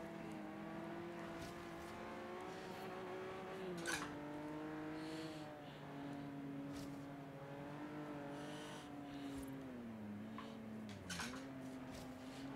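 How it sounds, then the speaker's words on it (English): Audi race car in the Forza Horizon 3 video game, its engine droning at high revs with tonal pitch shifts on gear changes, quiet but continuous. "I got a good run on that Audi"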